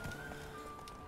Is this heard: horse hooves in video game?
yes